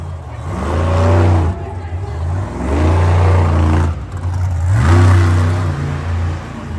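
A monster truck engine roars in loud, surging revs during a Monster Jam freestyle run at Rice-Eccles Stadium in Utah, rising and falling in three long swells as the truck pulls a big sky wheelie.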